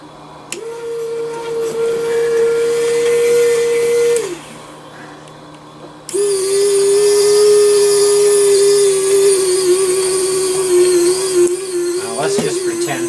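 A Traxxas TRX4 RC truck winch strains against a 25-pound load, whining steadily, pausing, then resuming with a higher, harsher motor whine.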